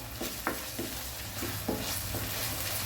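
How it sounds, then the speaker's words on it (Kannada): Onion fries in a pan with ginger-garlic paste for a chicken gravy, a soft continuous sizzle broken by several scraping stirs of a spoon, close and quiet, with no talking. "ಇದನ್ನು ಸ್ವಲ್ಪ ಫ್ರೈ ಮಾಡುವ. ಆಗ ಆನಿಯನ್ನು ಫ್ರೈ ಆಗ್ತದೆ ಇದರೊಟ್ಟಿಗೆ."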